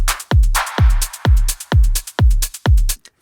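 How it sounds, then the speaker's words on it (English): Full-mix melodic techno drum loop with punchy, booming kicks on a steady beat and crisp hats and percussion between them, loud and dry, running just over three seconds with no voices. "our next example is a full mix drum loop"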